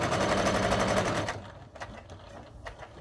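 Sewing machine stitching a fabric strap, a rapid, even mechanical chatter for just over a second before stopping, followed by faint handling clicks and quiet room noise.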